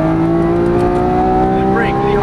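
A Lamborghini Aventador on a race track holds a loud, steady engine note under throttle, building in pitch, with a voice talking over it.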